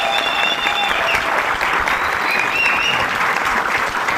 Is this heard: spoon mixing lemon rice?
no